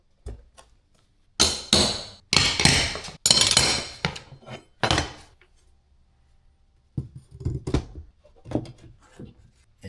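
Bursts of sharp hammer blows strike luxury vinyl plank flooring through a scrap piece in quick clusters, separated by pauses, then lighter taps follow.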